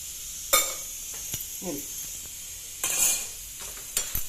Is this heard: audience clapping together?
no